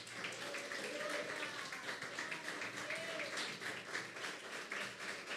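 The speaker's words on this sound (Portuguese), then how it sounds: "dar a melhor salva de palmas que você pode dar para o Senhor" A church congregation applauds together, a steady dense wash of clapping throughout with faint voices mixed in, moderately distant and even in level.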